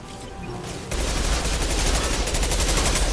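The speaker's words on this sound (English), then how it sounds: "this is a powerful pistol" Pistol fire in Mass Effect 2 erupts after a quieter moment, becoming a dense, continuous barrage of loud, rapid shots that continues to the end.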